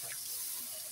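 Water pours steadily into a cooking pan of spices being fried for a curry, a short continuous hiss and splash heard alone and fairly close.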